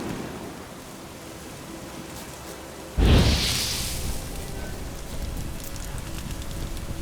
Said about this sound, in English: I love the rain effects and weather effects in the game.